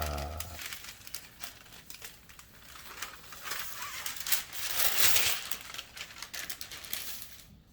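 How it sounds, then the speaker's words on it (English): Parchment paper peeled off heat-pressed custom shorts after a short press, giving a steady dry crinkling and crackling that swells midway and fades near the end. "I let the parchment paper sit for about 5 seconds before I peel it off."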